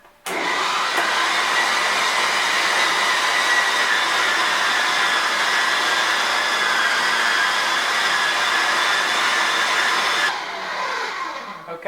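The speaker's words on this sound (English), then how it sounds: "so we have ground up the organ meat" Organ meat is coarsely ground in a large electric meat grinder with a loud, steady whirring motor for about ten seconds before it winds down and stops.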